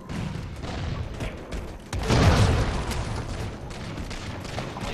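Dense Halo 4 gunfire during a big team battle, with loud rapid bursts and booming shots and a heavier barrage about halfway through, all continuous with no pauses.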